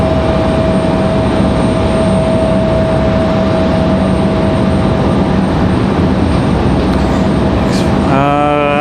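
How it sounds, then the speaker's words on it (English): A Republic Airways regional jet arriving from JFK, New York, at Raleigh-Durham airport roars as a loud, steady engine drone with a sustained whine throughout, and a brief rising tonal sweep near the end. "Republic Airways at 4804 coming in from JFK, New York."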